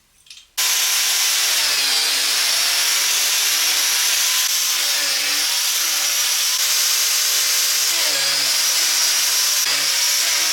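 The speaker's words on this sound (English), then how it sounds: "It's a biscuit jointer, and these are what they call the biscuits." A biscuit jointer power tool cuts into wood with a loud, sustained high-pitched whine after a brief quiet start, the motor pitch dipping slightly several times as the blade bites into the workpiece; no one speaks.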